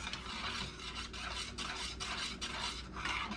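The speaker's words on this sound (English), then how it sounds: "you gotta continue to stir until it gets the thickness that you want it" A wooden or metal spoon scrapes steadily around a pot of homemade banana pudding as it thickens on the stove, with soft, continuous rhythmic stirring and faint clinks.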